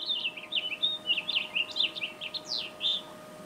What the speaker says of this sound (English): So this is the Hawaiian bird.